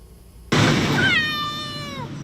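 A stray cat at a dumpster gives one loud, close, drawn-out meow that starts abruptly after a half-second of quiet and slowly trails off.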